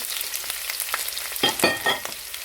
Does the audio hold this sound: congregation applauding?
no